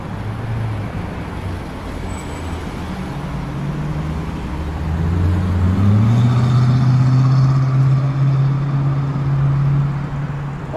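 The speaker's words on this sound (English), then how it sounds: "Why does that Lexus sound like a truck?" A Lexus car drives past with a deep, truck-like engine rumble that rises and swells in the middle, then holds steady over the background hum of street traffic.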